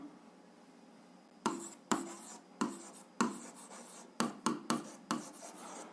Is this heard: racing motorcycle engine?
no